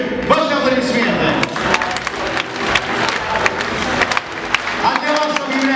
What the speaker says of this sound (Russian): Давайте мы еще раз поаплодируем людям, которых мы наградили сегодня на этой сцене.